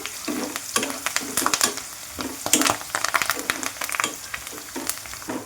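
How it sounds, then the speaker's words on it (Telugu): Onions and green chillies fry in a pan with turmeric for chicken liver curry, giving a close, crackling sizzle broken by repeated scrapes and clatters of stirring. "ఇదంతా మంచిగా ఫ్రై అవ్వాలండి"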